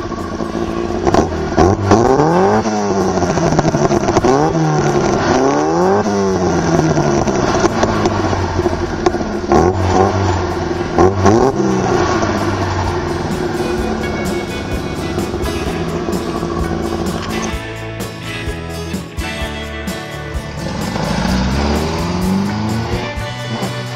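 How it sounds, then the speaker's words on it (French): A 1350 cc cast-iron Alfa Romeo 33 engine revs hard through a repaired, sealed exhaust, loud and close with repeated rising and falling rev sweeps, a rally-like bark throughout and no talking. "vous arrivez à résister à une sonorité pareille, venant de 1350 cm3 de fonte?"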